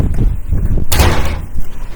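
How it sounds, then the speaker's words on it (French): A door is closed nearby, with a single sharp slam and a brief rush of air cutting through steady low room noise. "Juste fermer la porte."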